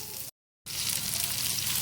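Semolina-coated bhola fish fries in oil with a loud, steady, close sizzle that cuts out completely for a moment before resuming just as strongly.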